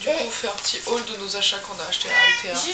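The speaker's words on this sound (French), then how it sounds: "C'est le chat." A cat meows a few times, close by, mixed in with steady French conversation between people in the room.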